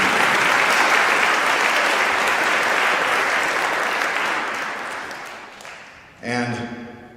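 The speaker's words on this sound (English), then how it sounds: "Lisa, let's give her a big round of applause." An audience at a live tribute concert breaks into a full round of applause, dense and loud at first, then thinning and fading until it stops near the end, when another sound briefly takes over.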